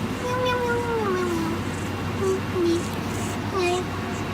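A pet cat named Sylvia meows several times up close, drawn-out and rising-falling calls in short bursts over a steady low indoor hum.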